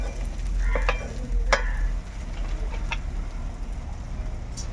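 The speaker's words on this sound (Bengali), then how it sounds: "এবার আমি কিছুটা পরিমাণ জল দেবো এর মধ্যে" Water poured into a pan of frying spice paste for a cauliflower roast, a hiss and sizzle followed by spoon stirring, with a few scraping clinks against the pan and steady close frying noise.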